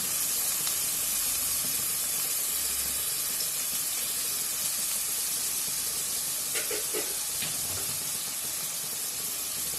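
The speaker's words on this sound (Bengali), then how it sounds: "একই সাথে দিয়ে দিলাম তেলের মধ্যে কিছুটা রসুন।" Minced garlic, about two teaspoons, sizzles in hot oil with a constant, close, hissing crackle at an even level and no speech.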